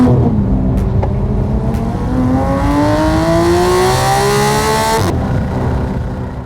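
A supercharged Porsche GT3 custom build revs hard through its active exhaust, the pitch climbing steadily for several seconds before cutting off abruptly, loud and close with no talking.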